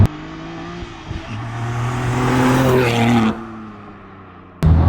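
A BMW G87 M2 engine revs up loudly, rising in pitch and holding a growl for a couple of seconds before dropping back, then a short burst at the end.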